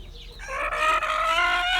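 A chicken calls loudly and steadily up close in a backyard chicken coop, a drawn-out, harmonic crowing-like cry that carries on for most of the stretch.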